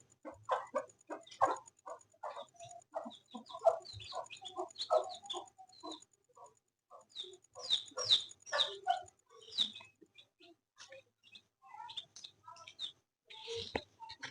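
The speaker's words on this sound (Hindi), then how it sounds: "ये नन्हे से चूजे देखो, बहुत प्यारे प्यारे।" Tiny baby chicks cheep in quick high-pitched bursts, faint and fairly close, in clusters with short pauses between, alone in a quiet setting.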